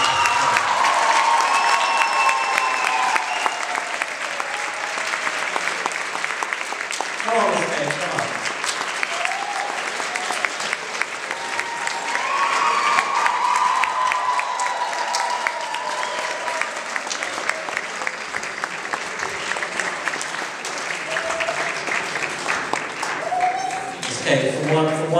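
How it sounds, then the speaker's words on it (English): Audience applause for a school performer at a Grease production, steady clapping that fills the whole stretch, with a voice or two breaking through now and then. "please give a big round of applause for Miss Kate from the Oaks House."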